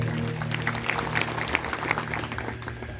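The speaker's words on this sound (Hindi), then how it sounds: "ताली बजा दीजिए जोरदार," Audience applause at a Shiv Mahapuran katha, a steady patter of many hands clapping together, moderately loud and sustained for a few seconds over a low background hum.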